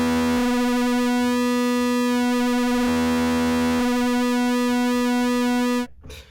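Arturia MiniBrute analogue synthesizer holding a steady buzzy note, its pulse width swept by the LFO so the tone swirls and shimmers; loud and alone, briefly dropping in brightness mid-way before cutting off near the end.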